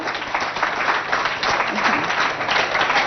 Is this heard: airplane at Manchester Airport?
no